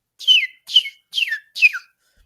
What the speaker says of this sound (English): some people whistle with their tongue and teeth